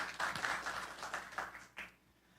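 Applause and clapping from a church congregation, a brief burst of many hands fading out after about two seconds, moderately faint.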